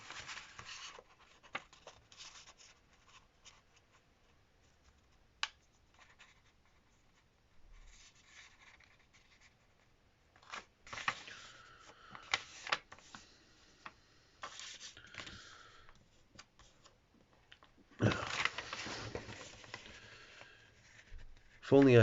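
A sheet of paper is folded and creased into an origami box, making quiet intermittent rustles and crinkles, with fuller bursts of paper handling near the end, under a person talking.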